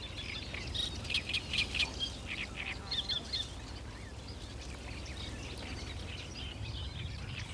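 A reed warbler's rapid chattering song in short bursts from reed-fringed pools in Greece, fairly distant, over a steady outdoor background hum, fading out after a few seconds.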